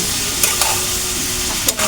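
Vegetables and chicken, with carrot, capsicum, onion and green chilli, fry in a little oil, a loud, steady close-up sizzle with a few brief stirring scrapes.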